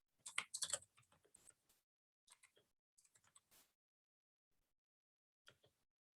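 Someone types on a computer keyboard, with quick clustered keystrokes at first, then sparse clicks separated by pauses, close and fairly quiet with no talking.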